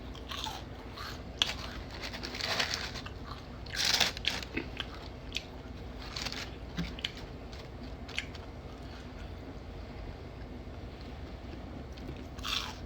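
Close, crisp crunching bites of fried food eaten with tartar sauce during a mukbang, a few sharp bursts scattered across a quiet stretch with soft mouth sounds and no talking.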